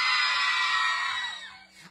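A crowd cheers and screams loudly, high excited voices sustained throughout, fading slightly toward the end.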